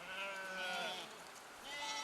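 Goats and sheep bleat at a goat farm unit holding about seventy goats and twenty sheep, with wavering, overlapping cries from several animals that are moderately close and continuous over a quiet outdoor background.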